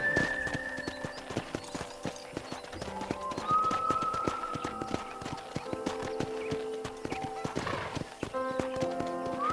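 Horse hooves clip-clopping on a ranch in the Red Dead Redemption video game, a steady walking rhythm of sharp hoof strikes with a neigh and whinny partway through, close and clear over faint game ambience.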